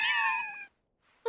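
A single clear meow from a cat in Final Fantasy VII Rebirth, near and fairly loud, followed by a short silence and a faint second sound.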